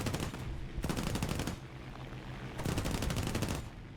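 Machine-gun fire from a P-26A-34 M2 fighter plane in the War Thunder combat game comes in two loud, rapid bursts separated by a short pause, with steady engine drone continuing underneath.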